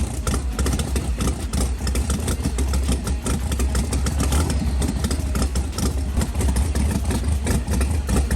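Supercharged V6 race engine tuned to run on pump gas at Charlotte Motor Speedway, running loud and steady with a dense, rough mechanical rumble throughout and no talk over it.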